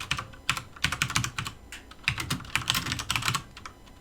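Clicky, close computer keyboard typing in irregular quick bursts of keystrokes with short pauses between, entering chat text, no voices.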